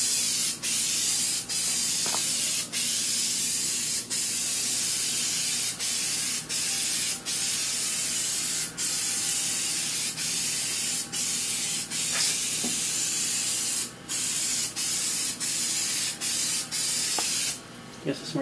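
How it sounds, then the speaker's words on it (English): Spray adhesive hisses in long steady bursts onto a car dashboard and foam padding during a Porsche 928 dash recovering job, close and continuous with brief clicks and pauses, a voice speaking faintly underneath. "So we'll spray this half of the dash and this half of the foam"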